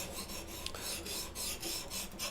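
Steady rasping strokes of an axe blade being sharpened in a jig, repeated filing passes in a close, even rhythm with no talking.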